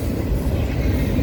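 A train rolls past in Fullerton, a steady loud rumble and rattle of cars and wheels filling the moment without a break.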